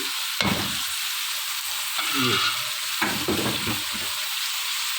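French beans are tossed into a hot pan and stirred, giving a continuous sizzle with a few scraping stir strokes and soft clatters.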